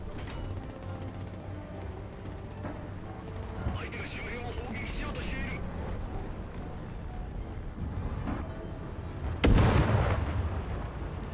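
Bombs explode in a tank video game featuring Japanese vehicles: one loud, sharp blast lands near the end over a steady rumble of engine and battlefield noise.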